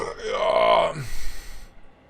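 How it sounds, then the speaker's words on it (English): A single loud, drawn-out burp from a man close to the microphone, rising and then falling over about a second before trailing off. "Big ass burp."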